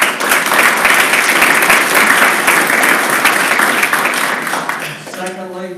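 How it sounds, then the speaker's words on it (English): Sustained applause from an audience at a lake property owners' association meeting, loud and steady for about five seconds before fading as a voice begins speaking at the end. "I want you all to give the board a round of applause"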